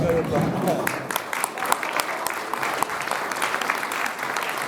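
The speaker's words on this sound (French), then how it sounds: "L'Union Taurine qui est là, ils vont se lever, on va les applaudir" Audience at a film presentation in Fons applauding the Union Taurine organising team, steady dense clapping throughout with scattered sharper claps, some crowd murmur and voices mixed in.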